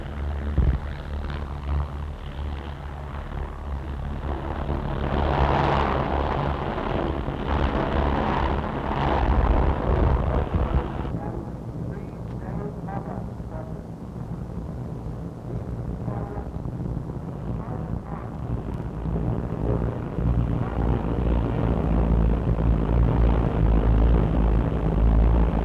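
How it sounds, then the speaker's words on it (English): Bomber aircraft of No. 35 Squadron take off at the Farnborough air display, a heavy, continuous propeller engine drone swelling and fading under wind and crowd noise on an old recording. "Number 35 Bomber Squadron is taking off for the commencement of the afternoon program"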